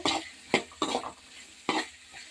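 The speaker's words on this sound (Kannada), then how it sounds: "ಒಂದು ಬಾಣಲಿಗೆ ಸ್ವಲ್ಪ ಎಣ್ಣೆ ಹಾಕ್ಬಿಟ್ಟು ಮೆಣಸಿನ್ಕಾಯಿ ಈರುಳ್ಳಿನ ಚೆನ್ನಾಗಿ ಮಾಗಿಸ್ಕೊತೀನಿ" A spatula stirs chillies and onions frying in a little oil in a pan while paneer masala is being made. Four or five sharp scraping strokes sound close and loud over a faint sizzle.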